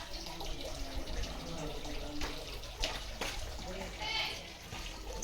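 Steady splashing of water falling from a stone cow-mouth spout at Ramtirth, a continuous rushing wash with a few brief knocks, close by.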